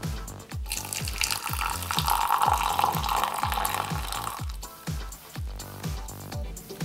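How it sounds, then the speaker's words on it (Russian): Boiling water is poured onto gelatin, a steady liquid stream running for several seconds under a repeating low thumping backing beat, with no voices. "отмеряю столовую ложку желатина и заливаю кипятком"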